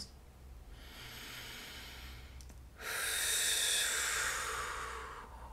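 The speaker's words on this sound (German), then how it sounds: "wir atmen ein paar Mal tief ein und aus" Slow, deep human breathing during a guided relaxation, a long soft exhale followed by a fuller, louder breath, faint and close with no talking.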